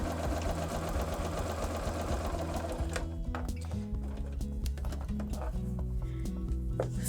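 A sewing machine stitches fabric for a pieced ornament in a fast, dense, steady whir for about three seconds, then slows to a lighter, uneven mechanical clatter.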